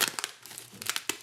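A knife cuts open a heavily taped package, with close crinkling, tearing and crunching of tape and cardboard in quick irregular bursts.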